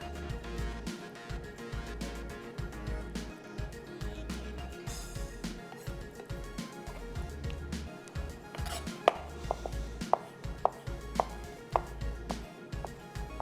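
A knife chops boneless chicken on a board for masala broast, with steady, rapid, close-up thuds in an even rhythm throughout and a few sharper knocks near the end.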